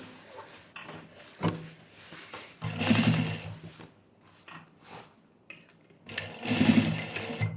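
Short bursts of a sewing machine stitching fabric, a rapid mechanical whir in two main runs with quieter handling clicks and rustles between them, close by and with no talk.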